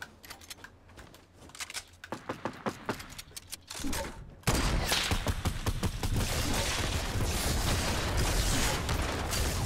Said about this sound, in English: someone's just shooting at me. Multiple people.